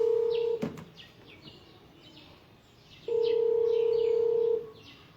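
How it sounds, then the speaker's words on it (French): A telephone rings with two long electronic tone bursts separated by a gap, close and loud, during a live broadcast, with faint background noise and a sharp knock between rings. "Qui m'appelle quand je suis en direct là?"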